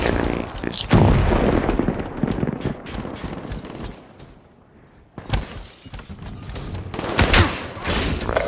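Hellstorm missile strikes hit the map in the Call of Duty: Black Ops III multiplayer game on the Evac map, with loud rumbling bursts and crackling blasts in two heavy waves separated by a brief lull.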